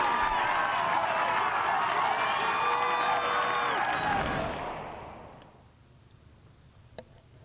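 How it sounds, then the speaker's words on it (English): The home gallery at the 2018 Ryder Cup golf match roars in a sustained, loud cheer that swells and then fades away over several seconds, ending in near quiet with a single sharp tick. "Big cheer from the home crowd."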